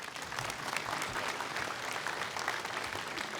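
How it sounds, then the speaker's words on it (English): A graduation ceremony audience gives a round of applause, thick continuous clapping from a large crowd, loud and steady with no talk on top. "Let's give him a round of applause."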